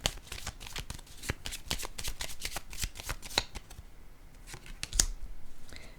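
A deck of cards is shuffled over and over in quick, crisp riffles and flutters. The bursts come close together, with a short pause partway through.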